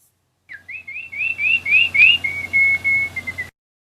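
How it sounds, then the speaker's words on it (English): A bright bird chirps in a quick run of rising whistled notes, then a few thinner tweets, close and clear against a quiet background. "You heard the sound of a bird chirping."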